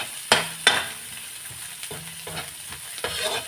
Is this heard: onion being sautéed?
yes